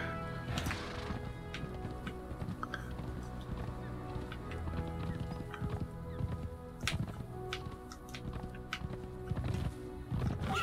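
Horse hooves clip-clop steadily in Conan Exiles, mixed with scattered taps and game effects, near and fairly clear, with some talk.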